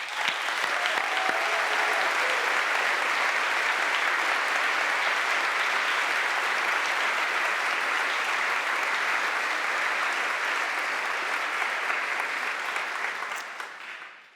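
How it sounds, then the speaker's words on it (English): Sustained applause at a Harvard ROTC commissioning ceremony honoring a first lieutenant, a full, even roar of clapping from a large crowd that holds steady for over ten seconds before fading at the end. "A round of applause for Lieutenant Gavitt."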